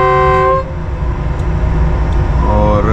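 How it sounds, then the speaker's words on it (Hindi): A loud, sustained train horn blares then cuts off, leaving the heavy low rumble of a train moving on the Bolan Pass railway, with a second horn rising near the end. "हॉर्न भी दे दिया ड्राइवर साहब ने ट्रेन यहाँ से मूव कर रही है"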